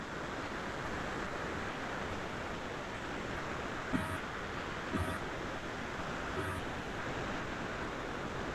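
Water rushes at the source of the Netravati river in the Western Ghats, a steady, soft broadband wash with no pauses and a few faint clicks.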